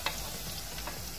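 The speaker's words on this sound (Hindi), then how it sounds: "दूसरी तरफ हमारा प्याज भी फ्राई हो रहा है।" Onions frying in a pan for aloo baingan give a dense, even sizzle, close and steady, with a faint stir or two through the short stretch.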